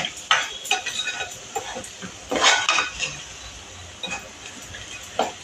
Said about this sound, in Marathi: तर हे आपण चांगले तांदूळ व्यवस्थित भाजून घ्यायचे, म्हणजे मसाला सगळीकडे व्यवस्थित लागतो